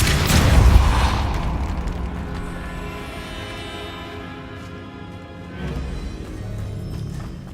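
A Depulso force spell cast in the video game Hogwarts Legacy, a heavy booming burst at the start that fades into a lingering rumble under steady game music.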